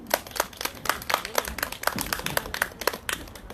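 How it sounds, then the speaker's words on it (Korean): An audience claps in welcome as a performer is called to the stage at an outdoor candlelight rally in Seongju, with scattered, uneven handclaps for about three and a half seconds and a few faint voices mixed in. "자, 큰 박수로 맞아주시면 고맙겠습니다."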